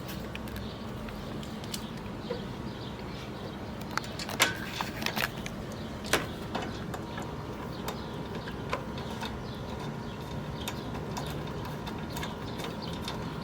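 Ratchet wrench clicking while tightening condenser bolts during A/C condenser replacement on a 10th-generation Honda Civic, a continuous close mechanical rasp with a few sharper clicks and knocks, no talking.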